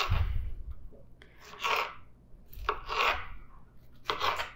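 Iceberg lettuce being chopped into small cubes with a knife, several bursts of crisp crunching cuts in irregular rhythm, close and fairly loud, separated by short pauses.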